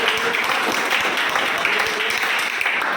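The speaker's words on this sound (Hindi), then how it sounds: "जोरदार ताली एक बार।" Sustained audience applause fills the stretch, a dense, steady wash of many hands clapping at a constant loud level with no pauses.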